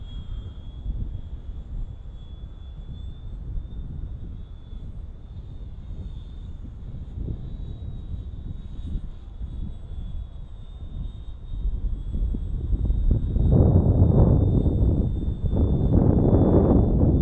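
An E-Flite Spitfire radio-controlled model warbird flies overhead with a faint, steady motor whine that swells louder and closer as it passes, along with wind noise on the microphone.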